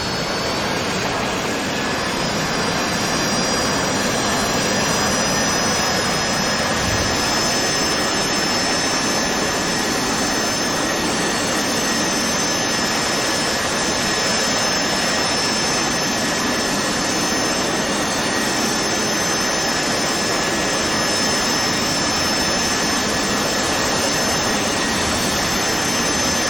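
A jet aircraft takes off from a highway forward arming and refueling point in the DCS World flight simulator, its engine roaring loud and constant with a steady high whine throughout, no voices.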